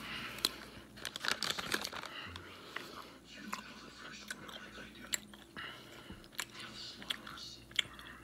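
Someone chews MRE Fireball Cocktail gum close to the mic with soft, wet, irregular chewing sounds and a few crinkles, under faint whispery breathing.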